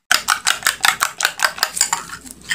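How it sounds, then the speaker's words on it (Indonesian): A beaten egg being whisked in a bowl for tempeh nuggets, with rapid, steady, evenly spaced clinks of utensil on bowl. The sound is close and clear, with no talking. "Kemudian kita akan kocok telur 1 butir. Kita kocok lepas, dikocok dulu"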